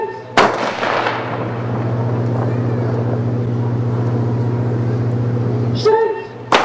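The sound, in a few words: simulated 4-inch naval gun firing on HMS Belfast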